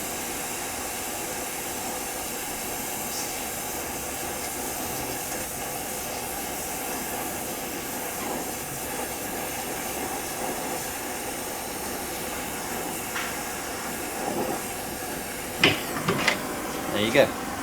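Steady, close hiss of a torch flame heating a brazed expansion valve joint on a ductless mini split, a constant rushing roar with a few small clicks near the end.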